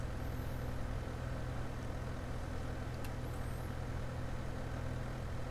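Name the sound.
tractor engine in the video game Farming Simulator 2015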